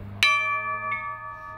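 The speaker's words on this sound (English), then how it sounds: "Anti-death penalty protesters rang this bell Thursday night" A single bell struck once by anti-death penalty protesters at night, a bright clang that rings on with a long, steady humming decay, heard alone with no voices.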